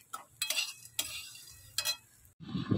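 Chop fritters being fried in a home kitchen pan, heard as bursts of stirring and scraping with a light sizzle, followed by a louder, denser sizzle near the end, with no talking.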